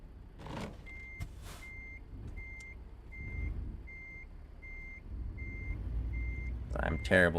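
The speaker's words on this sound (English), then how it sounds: "I'm terrible at backing trailers on this game." A truck backing a trailer in American Truck Simulator gives a steady run of evenly spaced reversing beeps over a low engine rumble, with a voice heard at moments and a burst of noise at the end.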